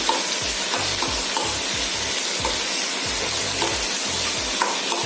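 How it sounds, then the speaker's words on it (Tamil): Onions and tomatoes fry in a pan with a dense, close sizzle, broken by regular scraping strokes of a stirring spoon in a steady rhythm, without any talk. "இப்போது ஆனியன் கொஞ்சம் ஃப்ரை ஆயிடுச்சு. இந்த டைமில் நம்ம டொமேட்டோஸ் ஆட் பண்ணிக்கலாம்."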